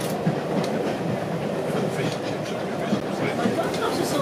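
West Somerset Railway carriage in motion, with steady rumbling rail noise and rhythmic clickety-clack of wheels over track joints, heard from inside the train under nearby conversation.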